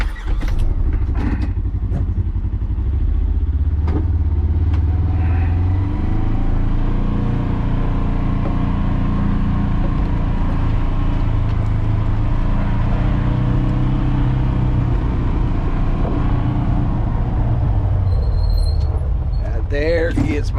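A 2018 Ranger utility vehicle drives out to collect maple sap, its engine a loud, steady low drone with rattles and knocks from the ride, while a person talks over it.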